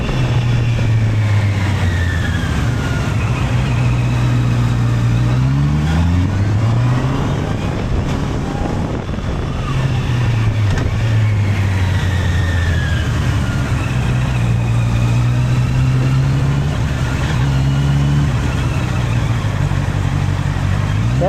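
Honda CBR 650R motorcycle with e-clutch ridden steadily, its engine droning loud and close with rising and falling pitch through smooth gear changes, constant wind noise over the whole ride, no talking.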